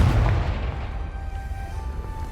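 A Confringo blasting curse in Hogwarts Legacy explodes with a heavy, deep boom that rolls off into a rumbling tail over a couple of seconds, with faint tonal game ambience underneath.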